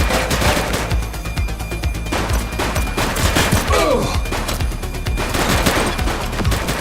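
Rapid bursts of video game gunfire crackle steadily throughout a police shooter, dense repeated shots with booms and impacts under a busy mix, with no talk.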